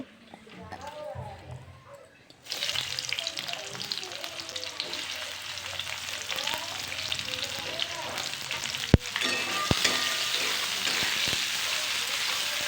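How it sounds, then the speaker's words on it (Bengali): Onions frying in a pan, a steady dense sizzle that swells louder after a quieter start and holds close and bright, with a few sharp clinks of a utensil near the end; a voice talks over the cooking. "প্রথমে আমি পেঁয়াজগুলিকে লাল লাল করে ভেজে নেব"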